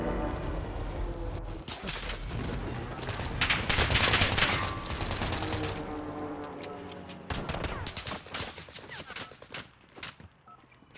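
Loud bursts of automatic gunfire in the video game Call of Duty Warzone, rattling volleys that swell mid-clip, then scattered sharp shots toward the end.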